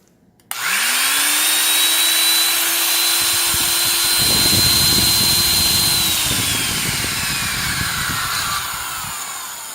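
A Black & Decker 757 heavy-duty half-inch reversible D-handle drill spins up from silence to a steady, close, loud motor whine, runs smoothly at full speed, then begins to wind down near the end.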